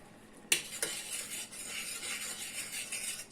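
A spoon stirs sugar into blueberry milk in a pot, starting with a sharp clink against the side followed by a second tap and then steady scraping swirls, close and fairly quiet.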